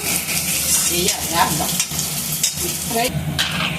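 Potatoes frying in a pan for a Guntur-style potato fry, a steady close sizzle with scraping stir strokes and brief clatters throughout, no speech.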